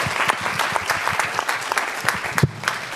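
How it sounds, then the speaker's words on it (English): Audience applause for conference panelists, a dense, moderately loud round of clapping from a seated crowd, continuous for a few seconds with a brief dip near the end. "another round of applause to these amazing people."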